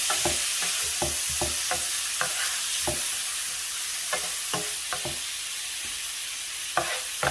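Leftover taco meat with pickled jalapeños sizzles as it reheats in a pan, with a constant frying hiss and a string of sharp stirring scrapes and taps at irregular intervals.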